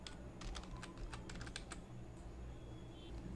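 Continuous typing on a computer keyboard, with rapid clustered keystrokes in bursts, close and clear over a low background hum.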